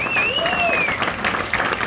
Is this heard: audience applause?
yes